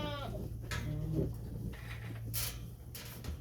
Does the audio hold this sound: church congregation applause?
no